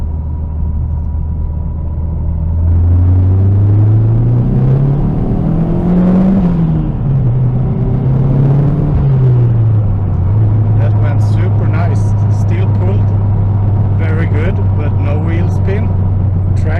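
Tuned, boosted SAAB car accelerating hard through the gears, engine droning and rising in pitch, easing at each shift, then settling into a steady loud run from inside the car.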